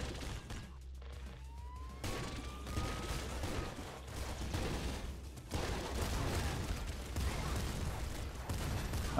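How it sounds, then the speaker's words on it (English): Rapid bursts of gunfire from the video game Nuclear Throne, a dense barrage of blasts and crashes that fills the scene continuously, loud and close with no pauses. "Just fire off a few shots here"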